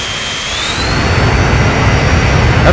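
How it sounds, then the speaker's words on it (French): An airplane's jet engines in the Transport Fever simulation game roar with a steady broadband rush as the plane nears top speed, rising slightly in intensity with a faint whining tone above, loud and continuous with no speech. "on va atteindre la vitesse maximale de l'avion."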